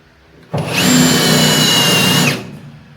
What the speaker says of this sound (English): I got a lot of spot welds to drill out